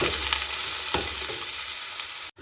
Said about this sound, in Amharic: ዘይት ድስታችን ላይ እንጨምራለን። ሽንኩርት ይሄንን ብራውን እስኪሆንልን እንጠብሰዋለን።